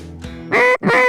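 Canada geese in North Dakota give two loud, close honks, the second following quickly after a short dip, with a fainter call just before.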